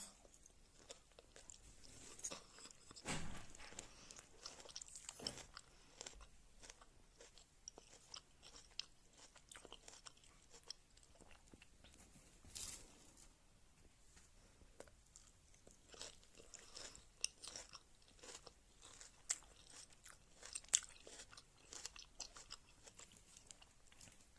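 Salad is eaten up close, soft wet chewing and occasional crisp crunches of leaves, quiet and irregular with no talking.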